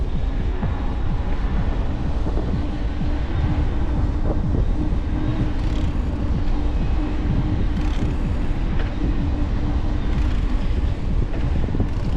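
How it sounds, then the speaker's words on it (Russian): Wind blows outdoors on a January route between Adler and Sirius in Sochi, a constant low buffeting roar that fills the whole stretch with no voices. "Ветрено, ветрено."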